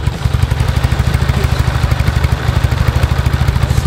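A Ural 750 motorcycle with an Akhovsky engine idles nearby at a motocross dirt track gathering of over a hundred Urals. The loud, rapid, even chugging pulses continue without a break, and no one speaks.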